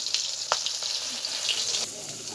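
Oil with dried chillies sizzling in a wok, a continuous bright hiss with a few sharp pops and crackles, close and fairly loud.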